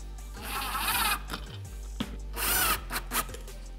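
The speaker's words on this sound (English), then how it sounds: "I tighten them to the point where the nylon engages the threads" Washer and nylock nuts being tightened on a Minn Kota Ulterra trolling motor mount with a power driver, two loud whirring bursts with brief pauses and clicks between, close up, no talking.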